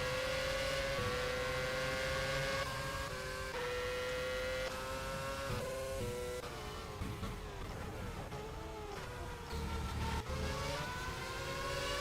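Formula racing cars in the sim game rFactor at the Malaysian Grand Prix whine at high pitch, with several engines droning together and shifting pitch as they run down a straight, continuous and fairly loud, without talk.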